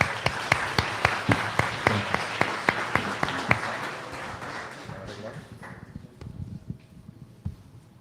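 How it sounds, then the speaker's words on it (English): An audience claps at a marketing talk event, with a few sharp, loud claps standing out over the crowd before the applause fades out toward the end. "In the meantime, let's give him a round of applause."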